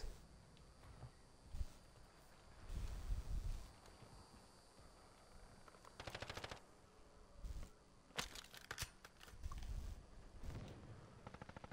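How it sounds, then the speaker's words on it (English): Footsteps in Warzone, a first-person shooter match on Xbox One X, sound as scattered soft thuds that are partly masked by bursts of distant and near gunfire and other in-game noise. "I hear footsteps."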